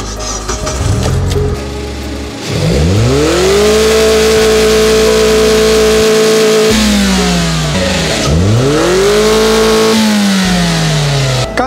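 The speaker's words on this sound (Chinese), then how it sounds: "看这次发动机急加速的情况" A car engine with a deliberately dirtied, clogged air filter revs hard twice under sharp acceleration, each time rising from idle to a loud sustained drone before dropping back, close and alone.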